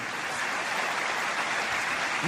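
A church congregation applauds during a Sunday service, a continuous even wash of many hands clapping, somewhat distant and moderately quiet, with no voices on top.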